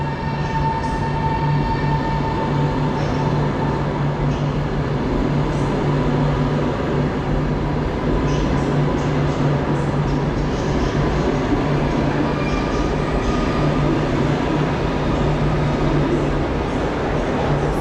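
Two coupled Koleje Mazowieckie Elf electric multiple units running as the airport train through Warszawa Centralna station, a loud continuous rumble of wheels and motors with a steady electric whine, close and echoing in the underground hall.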